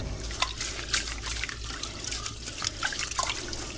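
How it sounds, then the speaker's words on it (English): Rice being swished and rubbed by hand in a bowl of cloudy, starchy water, giving close wet sloshes and trickles with small splashy accents throughout. "Work the rice around with your hand. You can see that water is very cloudy white."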